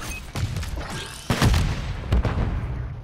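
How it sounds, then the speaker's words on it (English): A grenade goes off in a Call of Duty: Modern Warfare 3 Search and Destroy match, landing as heavy booming blasts amid close gunfire, with two strong thuds standing out over a busy battle din. "Grenade behind you guys."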